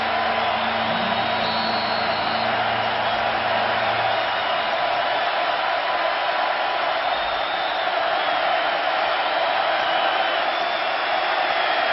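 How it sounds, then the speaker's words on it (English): A football stadium crowd at a Texas versus Kansas game is on its feet, a dense, steady roar that holds loud and unbroken throughout. "Crowd on their feet."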